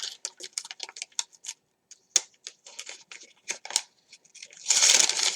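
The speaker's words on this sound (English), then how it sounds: "I'm going to crumple those pages up." Paper pages from a composition book crumpled by hand, a close run of dry crackling bursts with short pauses, ending in a denser rustling crush.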